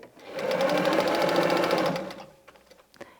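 Sewing machine stitching a fabric seam with a backstitch to lock it, a fast rhythmic mechanical whirr for about two seconds that stops, followed by a few light clicks.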